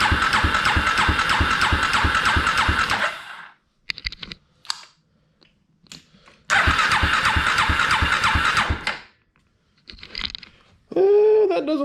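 A Polaris Predator 500 ATV engine cranks over in two long, loud bursts of rapid rhythmic chugging with the throttle held wide open. Quiet clicks and handling noises fall between the bursts, and the engine never catches.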